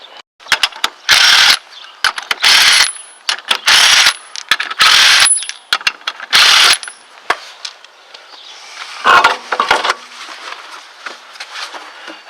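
Lug nuts come off a Dodge/Plymouth Neon wheel as a series of loud, close mechanical bursts of rattling and ratcheting, followed by quieter clunks and scrapes as the wheel is pulled free.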